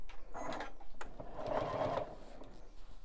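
A Juki sewing machine stitches fabric binding in short, close mechanical bursts of whirring and clatter with brief pauses between them, and no talk.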